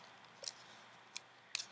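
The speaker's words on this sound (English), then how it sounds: "Grab your scissors, make the slightest cut in the paper right there." Scissors make small snips into paper while building a straw puppet body, three short, crisp cuts spaced apart in a quiet room, with no talking.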